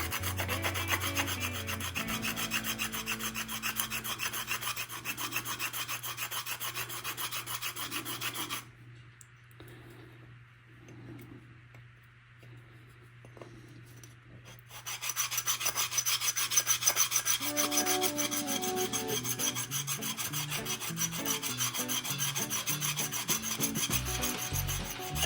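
Sandpaper rubbed over a wooden P90 neck-through guitar body, a loud, continuous close-up rasp that stops for several seconds partway through, leaving a low hum, before the sanding starts again.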